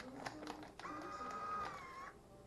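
FoodSaver vacuum sealer sealing a quart-size roll bag: a faint mechanical whir with a few clicks, then a steady, slightly rising whine for about a second before it cuts off, close and quiet.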